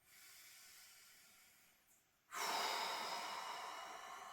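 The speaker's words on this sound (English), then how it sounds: "taking a few deep breaths in this position" Slow, deep breathing of a person lying still in a relaxed pose: a soft, steady breath sound, then a sharp jump to a louder, airy hiss that continues as a long exhale to the end.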